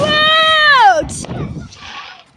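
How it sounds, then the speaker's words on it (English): A single sharp firework bang on bonfire night bursts out right after a person's loud excited shout, then rumbles briefly and fades into quieter background noise. "There's still so many fireworks."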